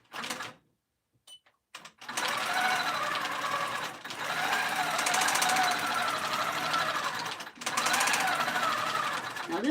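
Sewing machine free motion quilting large swaths across a double-batted polyester pillow top on a Cutie quilting frame, running in a steady dense rapid stitching drone with brief stops and restarts, loud and close, no talk over it.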